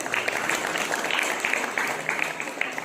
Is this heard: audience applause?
yes